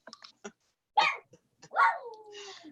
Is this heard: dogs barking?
yes